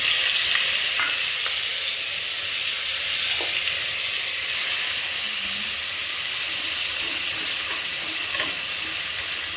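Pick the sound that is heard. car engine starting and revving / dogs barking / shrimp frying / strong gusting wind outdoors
shrimp frying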